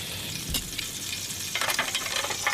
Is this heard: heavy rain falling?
no